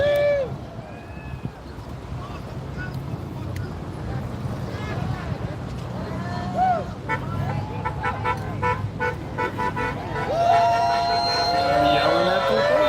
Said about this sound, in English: Definitely lots of support, a lot of honking.